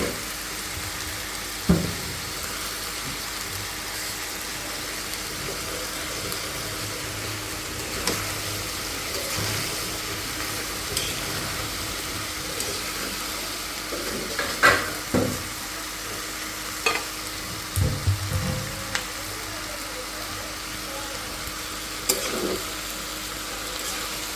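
Vegetables sizzle steadily in a hot pan with flour, a continuous frying hiss broken by scattered scrapes and clinks of stirring, with no talking.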